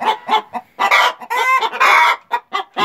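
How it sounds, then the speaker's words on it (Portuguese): Embrapa 051 hens cackling and clucking inside a henhouse, loud and close, with repeated bursts of squawks and drawn-out calls overlapping in quick succession, no talking. "a festa aqui no galinheiro que as galinhas fazem"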